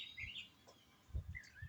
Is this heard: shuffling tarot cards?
no